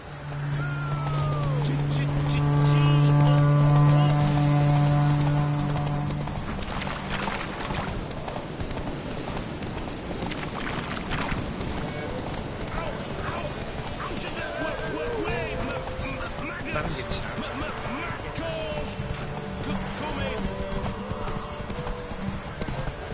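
The horse Roach gallops in The Witcher III with a rapid, continuous clip-clop of hooves and a brief whinny near the start. The hoofbeats run throughout, close and steady, with a voice speaking and game sounds layered over them.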